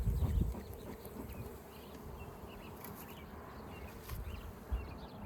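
Honeybees buzzing around an open hive during an inspection, a dense steady hum of many insects close by with a few louder bumps, no talking.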